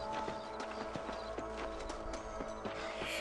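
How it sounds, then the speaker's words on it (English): Horse hooves clip-clop in a steady walking rhythm in the Western game Red Dead Redemption, a moderately close, quiet clatter of regular hoofbeats with no talking over it. "Now I gotta go back on my horse."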